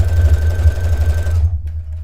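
A sewing machine stitches a seam on a dress made from McCall's 5360 pattern, giving a loud, close, steady motor whir and rapid needle rumble that stops abruptly near the end.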